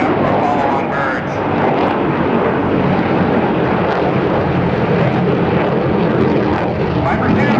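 Military jet aircraft maneuvering at the 2010 NAS Oceana airshow, a loud continuous broadband engine roar filling the whole clip, with a commentator's voice over it.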